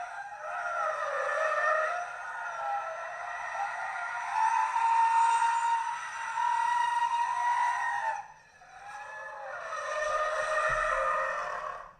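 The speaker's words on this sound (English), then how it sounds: "It looks like they're initiating the e-brake to get that slide going" A 2021 Ford Mustang Mach-E GT drifts using an e-brake slide, its tires giving a loud, sustained screech that runs about eight seconds, drops out briefly, then returns.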